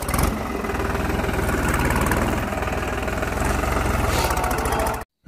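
A farm tractor engine idles close by with a steady, throbbing mid-low rumble and a fast regular pulse, then cuts out abruptly near the end before picking up again.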